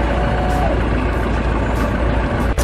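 Raising its blade, a toy bulldozer gives off a steady, loud rumbling engine-like drone for a few seconds, close and without any talking.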